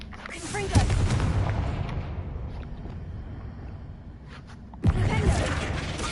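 Confringo blasting spell cast in a Hogwarts video game, a sudden booming burst that rolls into a rumbling tail, followed by a second blast near the end, loud and close under game noise.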